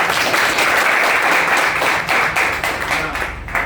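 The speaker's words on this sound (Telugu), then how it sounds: "గట్టిగా చప్పట్లు కొట్టి" Loud, steady applause from a rural district committee meeting crowd, continuous hand clapping filling the room for several seconds without speech.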